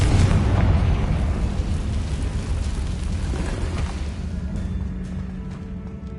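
A Confringo spell blast in Hogwarts Legacy on PS5 sets off a loud, rumbling explosion from the very start that slowly fades over six seconds, with no voices over it.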